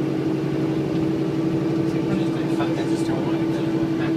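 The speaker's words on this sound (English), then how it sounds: "It doesn't sound too bad on the engine." A Volvo 9700H integral hybrid coach idles with a steady, even diesel hum and a constant drone, close and loud, while people talk faintly nearby.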